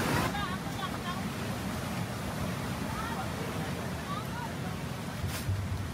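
Sea waves surging steadily onto the shore in the aftermath of a typhoon in Aurora Province, a continuous loud wash of surf with wind noise.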